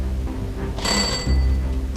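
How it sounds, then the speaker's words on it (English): A shop doorbell rings in a movie scene: one bright, metallic chime that sounds for about half a second and then fades, over a low, steady background hum. "Then they heard the sound of the shop doorbell, indicating that Francis had returned."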